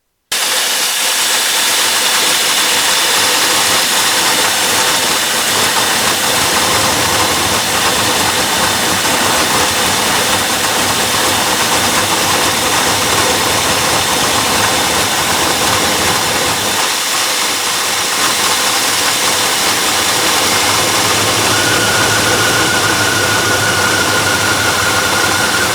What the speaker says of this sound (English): the car starts right up and idles fine with the choke held down